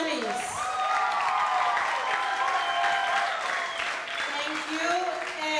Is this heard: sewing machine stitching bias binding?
no